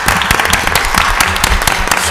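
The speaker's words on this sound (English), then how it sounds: "Let's give them a big round of applause" Clapping at a city council meeting in Mobile, Alabama, honoring the student council, a brief burst of moderate applause from a small crowd in a room.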